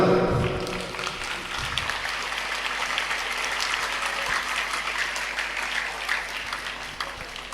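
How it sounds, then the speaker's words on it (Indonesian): Audience applauding during an Islamic talk, a steady sustained clapping from a crowd that stays even throughout and tapers slightly at the end, with no talking over it. "Tepuk tangan dulu dong."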